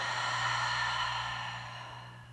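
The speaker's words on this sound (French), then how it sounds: "Ouvre la bouche, expire." A long, smooth exhale through the open mouth during yoga breathing practice, one continuous breath that fades gently toward the end, close and quiet.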